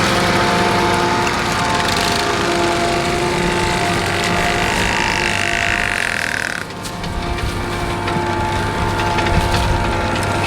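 Tractors sit idling while hitched to a plow stuck for lack of traction, giving a steady mechanical drone with a higher whine that cuts off partway, after which the low rumble carries on.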